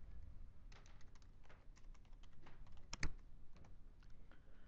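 Steady keystrokes on a computer keyboard during spreadsheet work, a light irregular clatter of taps with one sharper, louder key hit near the middle, heard alone with no talking.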